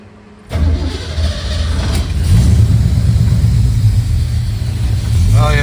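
A 1969 Pontiac Firebird with Holley Sniper fuel injection cranks and fires, jumping from near silence into a loud, close, rough-running rumble that holds steady, with a brief voice near the end.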